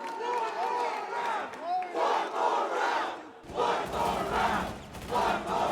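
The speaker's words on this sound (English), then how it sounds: "You hear the 1 more round chants from the crowd." An esports arena crowd at a Rainbow Six Charlotte Major playoff match chants in rising and falling waves, loud massed voices swelling rhythmically, with in-game gunfire sounds breaking in partway through.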